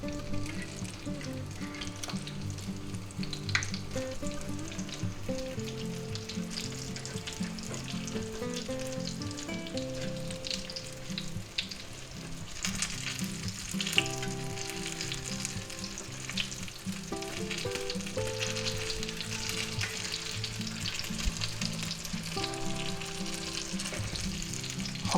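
Eggplant slices fry in a pan for eggplant parmesan with a continuous soft sizzle and light crackle, while background music plays throughout.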